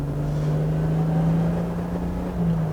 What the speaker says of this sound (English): Oh man, that clutch is slipping.